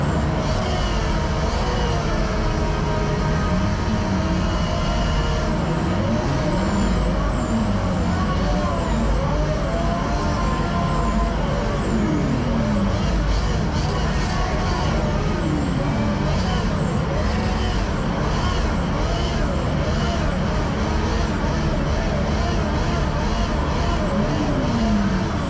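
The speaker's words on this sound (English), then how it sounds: "Listen to that turbo spool." A loud racing simulator engine drones continuously with rising and falling whistling tones of turbo spool, dense and close throughout.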